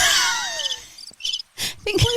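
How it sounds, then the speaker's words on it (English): A crickets sound effect opens with chirping and sliding tones that die away, followed by a few scattered knocks and bursts of noise. "Crickets."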